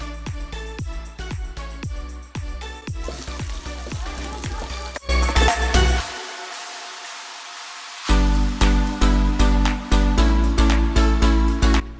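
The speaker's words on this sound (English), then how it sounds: "we need to saute some of the condiments such as onion, ginger, and black pepper" Onion, ginger and black pepper sauté in a hot pan for a beef soup, giving a steady close sizzle with sharp clattering bursts and a quieter stretch midway.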